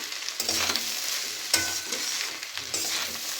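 A spatula stirs leftover rice with fresh coriander in a hot pan, giving repeated scraping strokes over a soft, steady sizzle of frying, with no voices.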